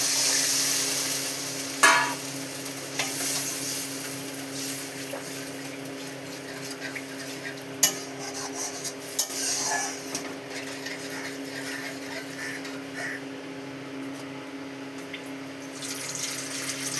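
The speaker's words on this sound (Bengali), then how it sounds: "মশলাটা আমার কষানো হয়ে গেছে, দিয়ে দেবো আমি পরিমাণ মতন জল।" Water poured into fried spice paste in a pan for a spicy tengra fish curry gives a steady hiss and sizzle, with a few sharp clinks and stirring knocks throughout, close and with no talk.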